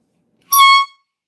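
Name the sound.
air horn sound from a toy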